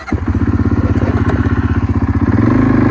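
An engine cranks and catches at the start, then settles into a steady, rapid, chugging idle at close range, putting slightly higher in pitch near the end; no one speaks.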